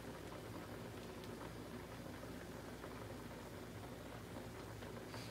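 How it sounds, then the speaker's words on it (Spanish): A pot of beans at a rolling boil: a steady, faint bubbling hiss with soft low churning and occasional small pops, continuous and even throughout. "ya están hirviendo los frijoles del último saco"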